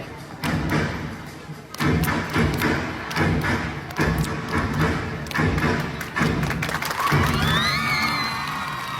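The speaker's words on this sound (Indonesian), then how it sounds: "Yang terakhir yaitu adat tariannya yaitu tari saman." Saman, a traditional dance from Aceh, performed with loud rhythmic claps and body slaps in steady group bursts, together with chanting voices and shouts, and a crowd cheers toward the end.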